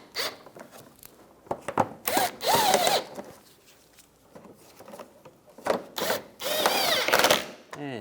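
A power drill drives fasteners into the side engine splash shield of a 2004-2009 Toyota Prius, several short bursts of whirring with pauses between, the last ones longer and louder, close up with no talk.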